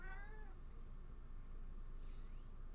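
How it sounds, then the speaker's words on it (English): A cat gives a short, faint meow, then a second, higher meow a couple of seconds later, both over a low room hum. "it's my cat"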